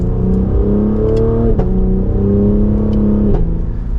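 A 2024 Cadillac CT5-V accelerates hard, its engine and exhaust giving a loud, continuous drone with climbing pitch that breaks at a couple of brief shift points before pulling on again.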